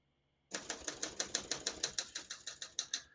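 Typing on a 1978 Olympia SM9 vintage portable typewriter, a crisp, close run of about fifteen evenly paced key strikes after a quiet start.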